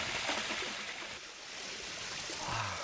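Clear, cold mountain water rushes over rocks in a stream on Minjujisan in Chungbuk, a steady close-up wash of flowing water with no voices.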